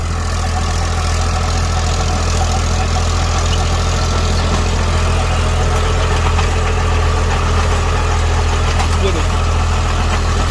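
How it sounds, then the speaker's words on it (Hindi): A tractor engine runs steadily while pulling a rotavator through a field, a loud continuous low rumble with a constant drone and no pauses, close to the microphone. "अब ट्रैक्टर की जो आवाज़ है वो हल्की सी बदली है।"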